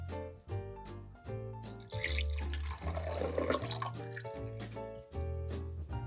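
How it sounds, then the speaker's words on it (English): French 75 cocktail poured into a metal julep cup, a close, quiet splashing trickle of liquid that builds briefly in the middle and then settles, with scattered small drips and clinks. "I'm just gonna go ahead and pour it into our julep cup."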